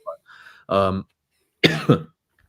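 A person coughs a couple of times in quick, harsh bursts, up close, after a brief throaty vocal sound.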